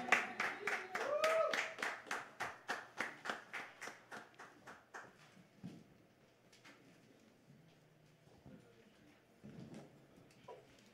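Audience applause after a big band performance, a burst of rhythmic clapping that starts loud and fades over about five seconds, then a quieter room with scattered sounds.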